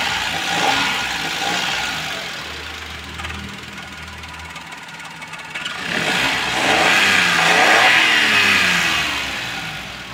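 A secondhand Maruti Suzuki Alto 800 LXI engine runs at a steady idle close by, then rises into a louder rev before settling again, continuous throughout with no speech.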